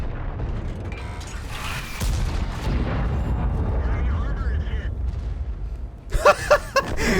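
Armored gameplay in World of Tanks: a heavy tank cannon blast booms amid rumbling engine and track noise, followed by sharp metallic impact clanks near the end.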